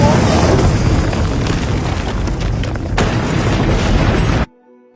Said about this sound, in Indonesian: Karena ledakan gedung itu, tower crane-nya jatuh ke arah gedung media Arjun